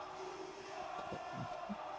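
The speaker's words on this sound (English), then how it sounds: "The crowd's going nuts for him" A WWE Raw wrestling crowd cheering for Oba: a steady, distant roar of a large arena audience with a few thuds and shouts rising out of it, no clear speech.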